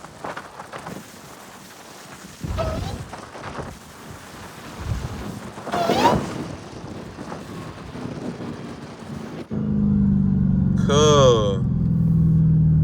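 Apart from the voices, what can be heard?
modified 900 hp Dodge Hellcat engine whine and revving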